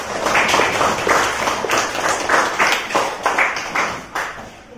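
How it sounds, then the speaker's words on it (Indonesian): Students in a classroom clap together for a classmate, a dense, steady patter of many hands with soft rhythmic swells, fairly close and continuous for several seconds. "Oke, tepuk tangan dulu untuk temannya."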